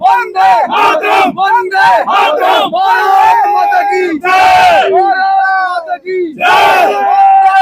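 Large crowd at a martyrs' memorial gathering in Nasibpur, Narnaul, chanting slogans in loud, rhythmic bursts of massed voices, close and continuous with short pauses between shouts.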